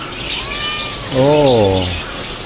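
A Russian Blue cat at a pet market in Manila gives one short, tonal call with a bending pitch, loud and close, after a brief fainter cry, over low background noise.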